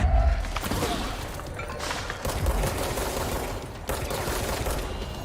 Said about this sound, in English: Pummel him with bullets while he's not moving very much